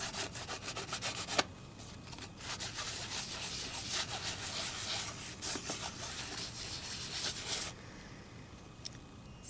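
An ink pad is rubbed back and forth over embossed paper in repeated soft, scratchy strokes, close and quiet, with brief pauses between passes.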